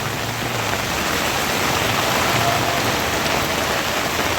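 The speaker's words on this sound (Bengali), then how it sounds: "প্রচণ্ড ভারী বৃষ্টি।" Heavy rain pours down in a dense, unbroken hiss that stays loud and even throughout, with no voices.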